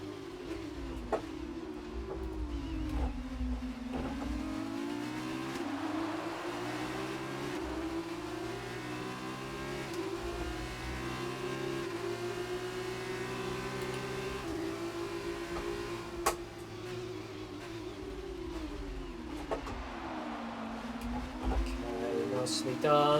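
A Formula 2 car at the Austrian Grand Prix in F2 2018, sliding around: a high engine whine climbs and drops through gear changes over a steady low rumble for the whole stretch, with no voices.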